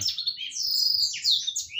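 A baby long-tailed shrike chirps in rapid, shrill, continuous tweets while being hand-fed crickets, loud and close with no talking.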